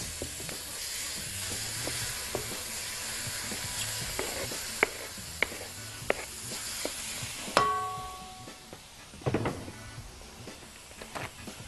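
Cubes of diced liver frying alongside onion in a pan give a soft, steady sizzle with scattered sharp clicks and a few louder clatters toward the end.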